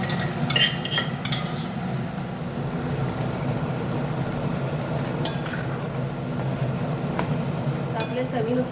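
Boiled mutton tips into a pan of frying masala, with steady sizzling and spoon stirring, a few sharp clinks of metal against the pot, and low background noise throughout.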